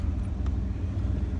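An old car engine runs at a low, steady idle while its gears are tried, a dull rumbling drone heard close and unchanging for a moment with no talk.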